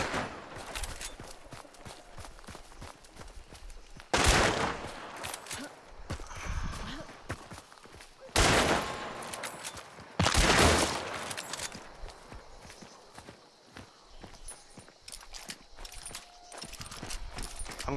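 Gunfire in the Hunt: Showdown video game, several loud broadband shot bursts spaced through a noisy mix of footsteps and rustling, with people talking now and then.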